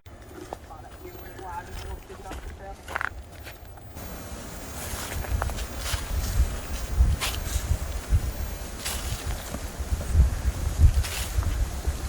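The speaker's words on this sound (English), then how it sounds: "The wind's kicking it in," Wind gusts across a state park hiking trail in Arkansas, a rough rumbling buffeting on the microphone that grows stronger after a few seconds and stays loud, with faint footsteps and scattered rustles.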